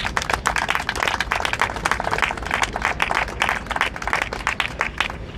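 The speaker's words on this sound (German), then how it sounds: "dass der erstmal einen fetten Applaus verdient." A crowd applauds at a European election campaign rally, with many sharp, distinct claps in a brisk, uneven rhythm that holds steady and fairly close for several seconds with no talk.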